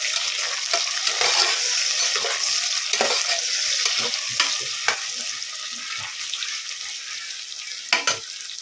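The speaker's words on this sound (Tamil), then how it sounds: "இப்போது ஆனியன் நல்லா கோல்டன் ப்ரௌனில் சவந்து வரட்டும்" Onions and green chillies fry in a pan with a strong, close sizzle while a spatula stirs and scrapes in irregular knocks throughout.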